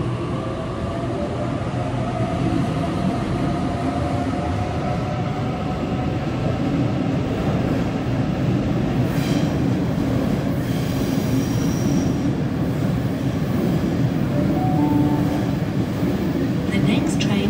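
A suburban train pulls into the platform at Olympic Park station with rolling wheel noise and metallic squeals. A platform announcement plays over the loud, continuous rumble.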